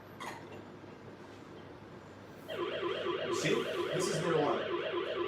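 An Aqara smart hub sounds its alarm after a water leak sensor is dropped into water, a loud warbling electronic siren that sweeps up and down and starts abruptly partway through, over a steady background hum.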